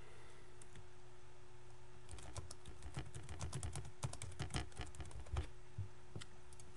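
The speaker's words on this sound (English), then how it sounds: "type in my note" Quiet bursts of fingers typing a note on a computer keyboard, a few isolated keystrokes first, then a dense run of quick clicks, close but soft over a faint hum.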